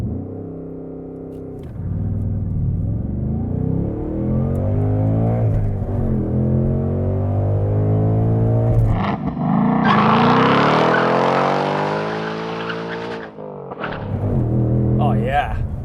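A 2024 Ford Mustang GT's 5-liter V8 idles, then revs up and launches hard under launch control, its engine note climbing through gear after gear with a sharp, loud surge midway, close and strong.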